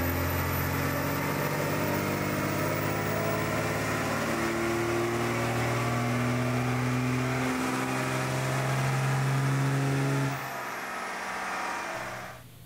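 A 24-valve Cummins diesel engine runs on a dyno at a top power tuning level: a loud, sustained roar with rising engine tones that cuts off sharply near the end and leaves a fading wind-down.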